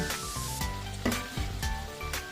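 Garlic frying in a hot pan, a steady close sizzle running the whole time with a few stirring scrapes on top.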